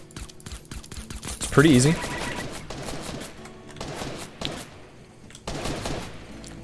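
Gunfire in Fortnite sounds as a series of sharp shots and bursts, some rapid, mixed with game effects, while someone talks over them.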